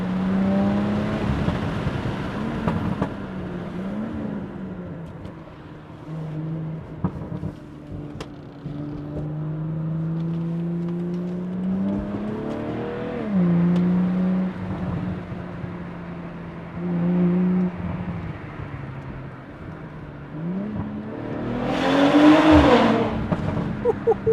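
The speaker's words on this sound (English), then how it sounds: "let's head into a tunnel, see how that car sounds." Tuned BMW B58 engine with a 200-cell downpipe, OPF delete and MHD tune accelerating inside a tunnel, loud and echoing, its pitch climbing through the gears with shifts in between and a sharp final burst of revs.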